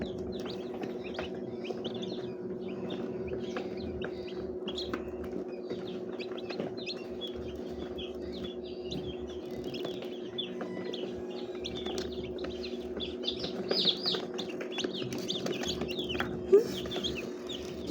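Newly hatched chicks from a manual incubator peep and chirp continuously, many small high calls overlapping at close range above a steady low hum.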